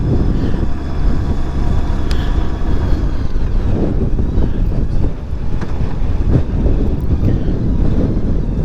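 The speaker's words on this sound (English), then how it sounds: "Ooh, you can feel the wind." Heavy wind roars and buffets the microphone while riding a Goldwing motorcycle, a loud, constant gusty rush with a low engine drone underneath. It carries on for the whole stretch without talking.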